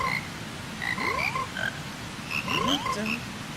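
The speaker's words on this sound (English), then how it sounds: "there's even a singing band of frogs." A singing band of frogs from a Zelda video game croaks in short musical, pitched phrases, a couple of bursts of layered croaks over a soft steady background.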